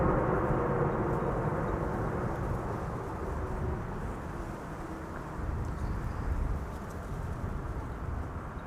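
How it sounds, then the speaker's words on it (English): Thrust reversers roaring on an airliner just after landing at Amsterdam Schiphol Airport, a broad, rumbling jet roar heard from a distance that swells and eases slightly over several seconds, with no voices. "Reversers being applied. That's quite clearly audible."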